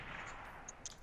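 Gunfire in Call of Duty Black Ops 3 during a one-on-one match, a few sharp, fairly faint shots popping late over a steady hiss of game ambience.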